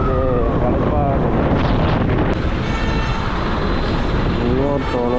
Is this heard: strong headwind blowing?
yes